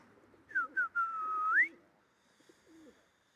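A few soft, warbling pigeon coos come close together in a December pigeon loft, followed by a short quiet pause and a faint, low murmur near the end.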